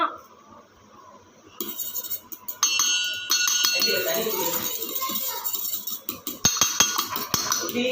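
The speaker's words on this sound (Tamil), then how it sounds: "இப்போ இதை நல்லா மிக்ஸ் பண்ணிவிட்டு நான் வந்துடுறேன்" Ingredients for an evening snack are stirred in a bowl, giving repeated metallic clinks and scraping of a spoon against the dish. The clinks come in an irregular rhythm, a few sharp taps stand out near the end, and a person talks throughout.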